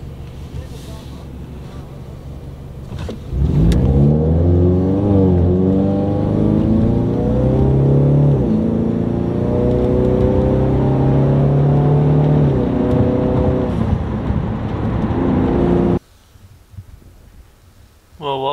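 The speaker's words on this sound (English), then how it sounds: "It seems like this Honda Accord wants to go." A Honda Accord accelerates hard while driving, its engine rising through several revving pulls and gear changes with a loud, steady drone that sweeps upward before cutting off abruptly near the end.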